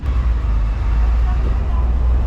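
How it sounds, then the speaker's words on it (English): The air compressor on a tram chugs steadily, a loud, low rumbling drone that fills the whole moment from close by without a break. "That chugga chugga chugga chugga chugga sound that you can hear is the sound of our air compressor working."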